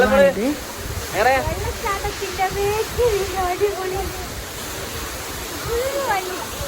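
A waterfall near Manali in the cold mountain outdoors, heard as a steady, hissing rush of falling water under people talking for most of the clip.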